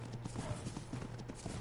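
A horse's hooves clip-clop in the video game Ark: Survival Evolved, a quick steady patter of soft thuds, quiet and close, with no talking over them.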